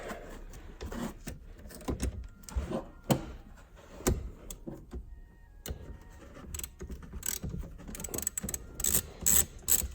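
Ratchet wrench with a 10 mm socket loosening the negative battery terminal on a BMW 3 Series, giving quick bursts of rapid clicking with short pauses, close and alone.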